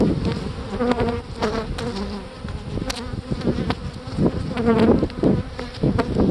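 Dense, steady buzzing of many foraging honey bees swarming close around a hive box, with individual bees zipping past the ear now and then.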